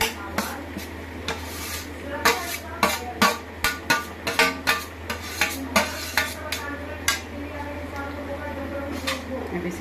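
Balls of peas fry for aloo tikki chaat. A spoon scrapes and taps against a metal pan in an uneven, quickening rhythm over a low sizzle, with a voice talking now and then.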